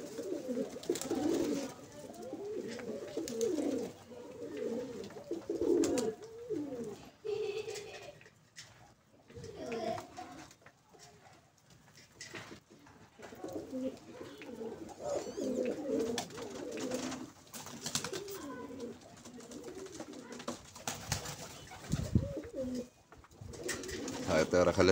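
Pigeons coo steadily and close by, their soft repeated calls overlapping throughout, with some human voices mixed in.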